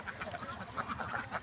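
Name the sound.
domestic ducks quacking on a duck farm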